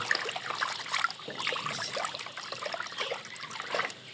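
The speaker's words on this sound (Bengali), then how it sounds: "এখন আমরা পরিমাণ মতো এই পানিটা পাত্রে ভরে নেব" Light, steady trickling of water with small splashes, continuous throughout at a moderate, close level.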